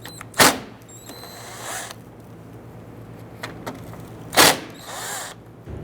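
A power driver buzzes twice in short bursts to loosen 7mm grille screws on a 1999-2004 Jeep Grand Cherokee, with light clicks and handling noises between, close by and without speech.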